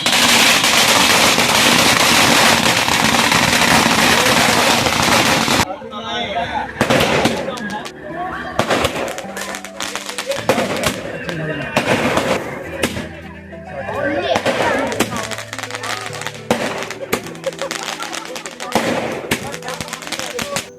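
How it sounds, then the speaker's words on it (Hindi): At a village wedding, firecrackers crackle in a dense, continuous roar, then give way to loud, scattered bangs and pops of fireworks going off nearby. "मैं आपको दिखाने सुनाने वाला हूँ पटाखे की आवाज़ किस तरह आतिशबाजी हुई है"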